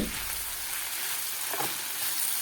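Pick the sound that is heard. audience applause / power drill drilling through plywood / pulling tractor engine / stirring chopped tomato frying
stirring chopped tomato frying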